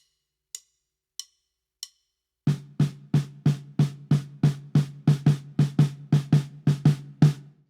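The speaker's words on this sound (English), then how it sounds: "it's just going to be eighth notes on the snare" Three sharp stick clicks count in, then a snare drum plays a steady, even run of about fifteen close, crisp hits at an eighth-note pulse, alone and without any talking.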